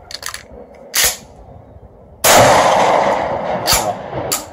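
A 12 gauge shotgun firing a Federal slug outdoors: a few light clicks of handling, then one loud, sharp blast with a long rolling echo.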